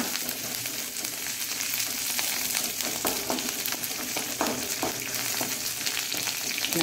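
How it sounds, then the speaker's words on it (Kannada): Green chillies and curry leaves fry in hot oil in a pan while being stirred, making a steady loud sizzle with scattered crackles and scraping taps, close by and continuous. "ಕಾಯಿ ಮೆಣಸು ಇಷ್ಟನ್ನು ಹಾಕಿ ಸ್ವಲ್ಪ ತಿರುಗಿಸ್ಕೊಳ್ಳೋಣ"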